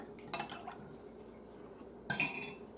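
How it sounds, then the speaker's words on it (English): A utensil stirs pancake batter in a bowl, making two short bursts of soft scraping and clinking against the dish, quiet and close, with a pause between them. "let's stir that up a little"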